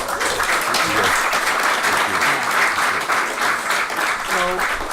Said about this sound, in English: if you guys give them a big round of applause